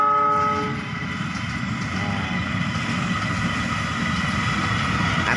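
An Argo Wilis passenger train on the Bandung to Surabaya route rolling by, its horn sounding loudly at the start and then giving way to a steady, close rumble of the wheels on the track.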